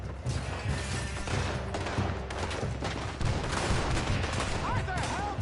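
Sustained video game gunfire on PS4, dense rapid shots and bursts cracking continuously across the whole stretch, with character voices shouting in between.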